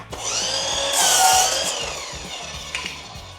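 A power tool cuts through a wooden bedhead panel with a close, whining, grinding rasp that swells and then tapers over a few seconds, accompanied by a rhythmic low thumping.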